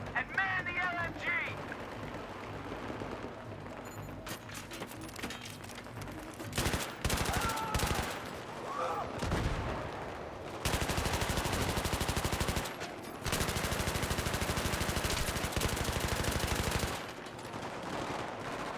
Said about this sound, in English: I love me a good LMG, baby.